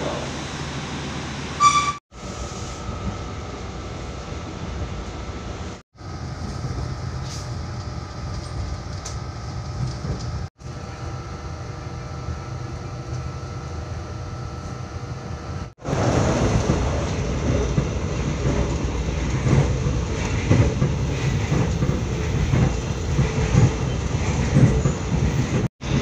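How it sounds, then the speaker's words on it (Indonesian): A passenger train arrives at Pekalongan station, heard from inside as a steady rumbling roll with a few abrupt breaks, growing louder and rougher in the later part. "Ini perjalanan kereta akan segera sampai di stasiun Kawangan."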